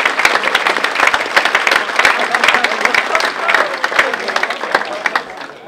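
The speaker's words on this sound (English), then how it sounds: "how about a round of applause?" Dinner audience at a college baseball first-pitch dinner breaking into applause, loud close clapping from a roomful of people with sharp individual claps standing out and fading slightly at the end.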